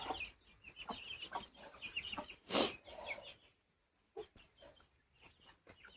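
Guinea fowl chatter in scattered calls, broken by one loud, harsh squawk, then quieter intermittent clucks after a brief pause.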